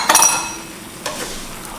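A spoon clinks against a pan as beef and broccoli stir fry is given a final mix with its sauce. Two or three sharp metallic clinks sound close by, with soft stirring in between and no voices.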